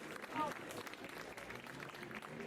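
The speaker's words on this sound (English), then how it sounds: "Yeah, round of applause." A live audience claps at the opening of a District216 marquee event, a dense, steady burst of applause that holds for a couple of seconds, with a brief whistle-like tone early on.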